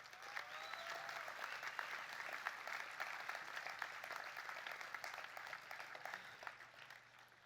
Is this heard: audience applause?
yes